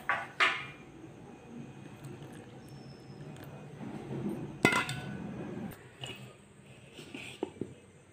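A spoon clinks against a bowl while milk is stirred into marble zebra sponge cake batter, giving a few scattered metallic taps and soft scraping, fairly quiet and close with no talking.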